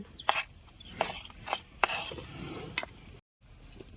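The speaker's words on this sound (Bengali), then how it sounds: "এই সব কিছু একসাথে ভালো করে মাহায় নেবো" Hands mix a batter of gram flour, chopped cabbage, green chilli, ginger, garlic, salt and turmeric in a bowl for rustic village-style kofta curry. Wet squelching and scraping strokes repeat at an irregular rhythm, close and moderately loud.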